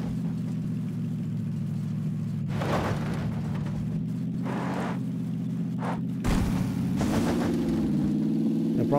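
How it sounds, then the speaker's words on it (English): Car engine hums steadily at a low idle-like drone while driving in PUBG, continuous and fairly close, with a few brief bursts of other game noise over it. "The problem with cars is you can hear them coming from a long ways away."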